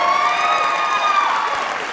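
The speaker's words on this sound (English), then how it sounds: "A round of applause to Nancy Krauss, our assistant stage manager and properties manager." Sustained applause from a theatre audience at an adult amateur drama group's staging of Disney's Beauty and the Beast, a dense, even clatter of many hands with scattered cheers lasting throughout.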